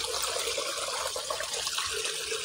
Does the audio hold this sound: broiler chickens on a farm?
no